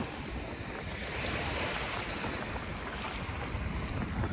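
Waves washing onto the shore at Dolomite Beach, a steady broad roar of surf with wind buffeting the microphone, continuous and fairly loud with no voices.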